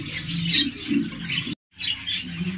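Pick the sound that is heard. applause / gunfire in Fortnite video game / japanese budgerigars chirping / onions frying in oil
japanese budgerigars chirping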